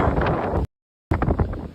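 Strong wind blowing outdoors in Fort Lauderdale, buffeting the microphone as a loud, steady rumble that cuts out briefly to silence midway, then resumes with gusty surges.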